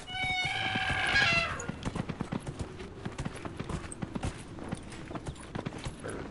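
Hoofbeats of a hart mount in the fantasy game Dragon Age: Inquisition, a quick run of clip-clop steps that come after a brief whinny-like call and continue steadily at moderate loudness with no talk over them.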